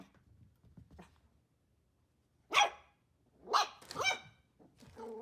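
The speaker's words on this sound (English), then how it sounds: "They loved to growl and bark at one another" Five-week-old foster puppies yap and bark sharply at each other in quick bursts separated by quiet pauses, with a low growl at the end.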